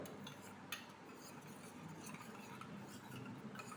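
Half a spoon of cornflour being stirred into water with a spoon, a soft, faint, continuous scraping and swishing that rasps steadily against the bowl with a small clink near the start.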